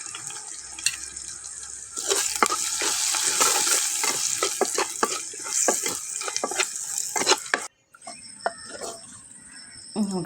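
Ripe chillies and curry leaves frying in hot oil as the tempering for sambar, with a loud close sizzle and crackle under stirring scrapes and spits, then a brief break and quieter sizzling.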